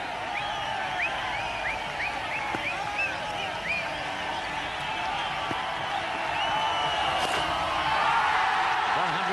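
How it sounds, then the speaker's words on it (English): A cricket stadium crowd at an India vs Pakistan one-day international in Singapore roars steadily while the batsman sits on 99, with a few whistles rising above the din. The roar is loud and continuous and swells toward the end. "you can see the noise in the background. You can hear it rather"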